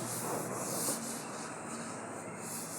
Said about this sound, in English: Rub it properly, go around the seams, in everywhere you rub.